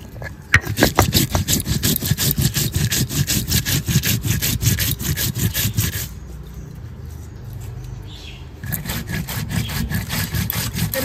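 Cumin seeds are crushed on a stone grinding slab, a steady rhythmic back-and-forth scraping that runs close and loud, pauses for a couple of seconds, then resumes with the same grating strokes.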